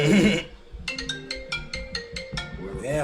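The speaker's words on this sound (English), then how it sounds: "Damn loud ringtone." A loud phone ringtone plays a bright, repeating electronic melody of short tonal notes, with a voice heard briefly at the start and end during a podcast recording.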